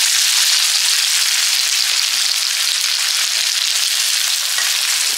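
Chopped onions fry in hot oil in a pan for a fish curry, a loud, steady sizzle with soft crackle that runs unbroken with no talking.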